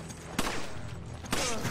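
Two sharp gunshots about a second apart in the video game Resident Evil 5, each a sudden burst over busy game background noise and music.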